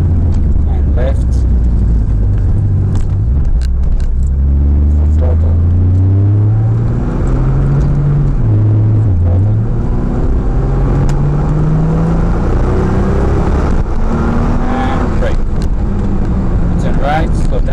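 A 2015 Nissan Juke R 2.0 heard from inside while driving, its engine droning and rising and falling in pitch as it revs and shifts, loud and constant, with occasional brief talk from the occupants.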